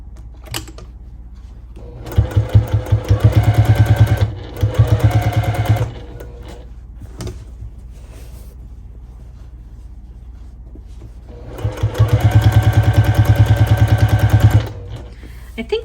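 A sewing machine stitches bias binding onto a quilted table runner in loud, rapid bursts of needle hammering, running for a few seconds, pausing briefly, then starting again after a longer quiet stretch.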